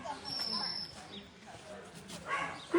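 Dogs at an animal clinic give faint, short barks and yips in a few scattered bursts, with people talking nearby.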